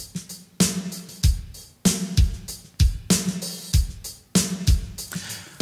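A drum kit with an EMT 140 plate reverb simulation of about 1.5 seconds on the snare plays a steady groove of kick and snare hits, each with a bright, washy decay, and no talking over it.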